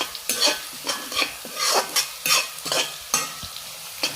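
Onions and curry leaves fry in a pan for puli inji and are stirred in quick, rhythmic scraping strokes, about a dozen close bursts over a crackling sizzle. No voices.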